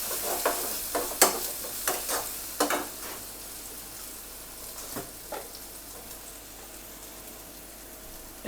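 Ground spices including cumin sauté in a pan while being prepared for an egg-coated rohu fish roll, the low sizzle punctuated by sharp, irregular clicks and scrapes of a spoon stirring against the pan.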